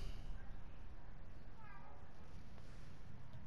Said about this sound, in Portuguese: Quieta, gata.